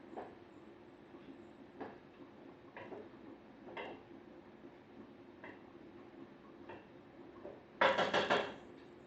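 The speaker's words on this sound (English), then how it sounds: "we're going to stir this a little bit" Spoon stirring quinoa and lentils in a pot, heard as a series of soft, spaced scraping clinks ending in a louder clattering burst, with no talk.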